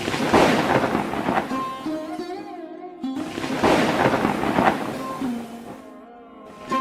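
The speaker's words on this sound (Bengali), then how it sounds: "এই যা, বৃষ্টি শুরু হয়ে গেল যে" Thunder rumbles in two broad swells as rain begins in an animated Bengali folk tale, with melodic music playing over and between the rolls.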